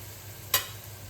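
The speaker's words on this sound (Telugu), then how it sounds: "ఒక నిమిషం వేగితే సరిపోతుంది అల్లం వెల్లుల్లి పేస్ట్ కూడా వేగనిద్దాం" Ginger garlic paste frying in oil in a pan, with one brief sharp stir or scrape over a soft, steady background sizzle.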